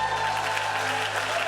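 Steady audience applause fills the room at a sermon-style gathering, a dense continuous patter of many hands clapping at even loudness with no voices breaking through.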